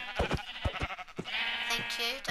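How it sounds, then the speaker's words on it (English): A Minecraft sheep in a pen bleats in a wavering cry near the end, following short bursts of speech. "This is the sheep pen."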